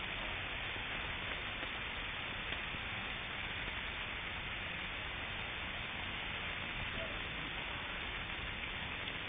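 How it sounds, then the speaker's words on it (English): Rain falling in a steady, even hiss that stays at the same moderate level throughout, with no other sounds standing out. "Yeah, it's raining. We're stopped."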